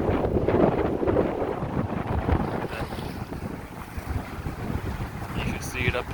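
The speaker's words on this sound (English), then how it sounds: "The wind is definitely ripping here" Strong wind roars through Marsaskala Harbor, a constant, gusty rush with heavy buffeting on a close microphone, and water and boat noise faintly mixed beneath it.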